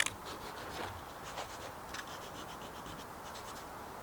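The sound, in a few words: sanding painted van surface with sandpaper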